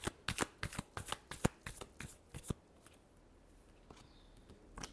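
Tarot cards being shuffled, a quick run of crisp riffling flicks for about three seconds, then a quiet pause and one last faint card snap, with no talking.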